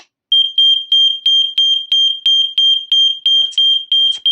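Aico Ei3016 optical smoke alarm sounding its test: a loud, piercing high-pitched beep repeated rapidly and evenly, about three pulses per second, with faint handling noise near the end.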